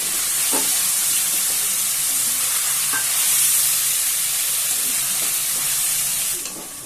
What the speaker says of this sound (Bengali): আমি ফুলকপিটা দিয়ে একটুখানি নুন হলুদ দিয়ে আমি একটু হালকা করে ভেজে নিচ্ছি